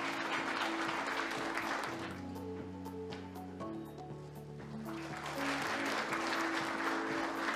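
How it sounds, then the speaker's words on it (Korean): An audience at a forum applauds to welcome a speaker to the stage, with steady, sustained clapping mixed with loud stage music. "여러분 뜨거운 박수로 환영해 주시기 바랍니다"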